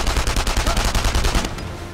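Rapid automatic gunfire from the World War II shooter game Enemy Front, a loud sustained burst of closely spaced shots that cuts off near the end, with no talk over it.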